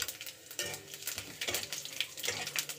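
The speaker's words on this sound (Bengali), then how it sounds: "এই যে একটু ভাজা ভাজা করে নেবো" Cumin seeds, bay leaf and dried chillies crackle and sizzle in hot oil in a pan, with steady frying hiss broken by a few spoon scrapes as the spices are stirred, close and unaccompanied by talk.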